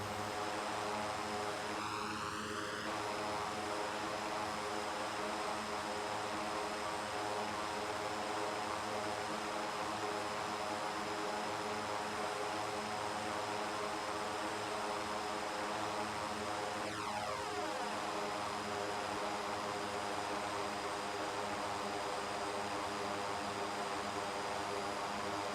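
Steady drone of a light aircraft's engine in level flight over Eswatini in the X-Plane 11 flight simulator, continuous and even throughout with no voices, a faint tonal sweep rising briefly near the start and again later.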